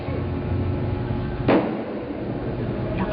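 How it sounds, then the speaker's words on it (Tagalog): One sharp firecracker bang cuts through a steady, noisy background, a brief crack that fades quickly. "Lakas na paputok."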